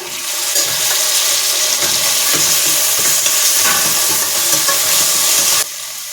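Chopped tomato hits a hot pan for palak paneer, a loud, dense sizzle with rhythmic scraping from stirring, close and continuous until it drops off sharply near the end.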